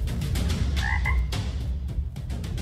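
Frog croaking sound effect: a dense, loud chorus of repeated croaks pulsing steadily throughout, with a couple of higher chirping calls in the middle and no talking.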